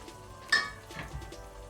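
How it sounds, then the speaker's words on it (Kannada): Masala frying in ghee in a pan for a Mangalore-style chicken urval, giving a close, steady sizzle with a sudden spattering burst and light stirring clatter. "ಸೊ ಒಳ್ಳೆ ರೀತಿದು ಮಸಾಲ ತುಪ್ಪದ ಜೊತೆ ಫ್ರೈ ಆಗಬೇಕು"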